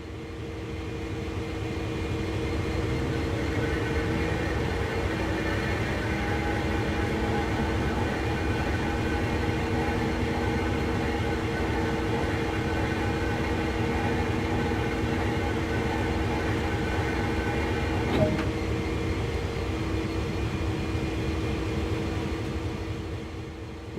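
A CSX locomotive turning on a turntable in the Train Sim World game, a steady mechanical rumble with a sustained whining hum over it, continuous and even, with a single small clank near the end.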